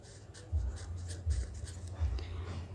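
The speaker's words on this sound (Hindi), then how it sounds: "तो पहले क्वेश्चन लिखेंगे" Soft scratchy strokes of a pen writing on paper or a board, several short bursts in a loose rhythm, close and quiet with no talking.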